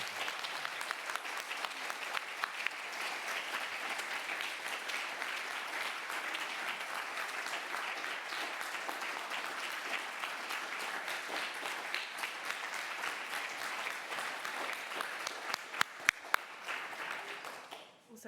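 Sustained audience applause at a UK myeloma society scientific forum award, a dense, even wash of clapping that holds steady for about sixteen seconds before a few sharper claps and a fade.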